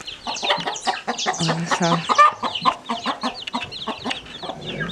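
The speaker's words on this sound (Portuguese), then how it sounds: "Esses pintinhos são de galinhas aqui do sítio mesmo." Hens cluck and naked-neck chicks peep busily nearby on a small farm in an irregular chatter, with a person speaking briefly in Portuguese among them.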